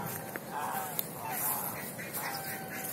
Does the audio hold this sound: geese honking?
yes